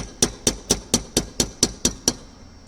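A small hammer taps a Grainger punch nine times in a steady, quick rhythm to knock out a roll pin on an NR83A5 during teardown; each strike close, bright and metallic with a short ring, no voices.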